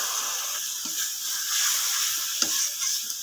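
Water poured onto fried spice paste of ginger and garlic in a pan, giving a steady hissing sizzle with light stirring scrapes and small crackles.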